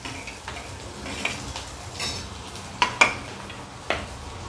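Green chili, onion, crushed garlic and peanuts fry in a pan with a soft steady sizzle, broken by a few sharp clinks and scrapes of a utensil against the pan.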